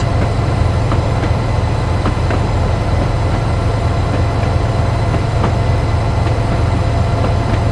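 A Royal Train railtour train rounding a tight bend near Dunfermline Town in Scotland, a loud steady rumble of wheels and carriages with faint intermittent clicks and squeals over the continuous roar.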